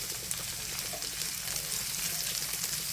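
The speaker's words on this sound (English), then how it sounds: "I'm going to go ahead and let the onion saute." A medium onion sautéing in a pan, giving a soft, steady, even sizzle throughout with no voices.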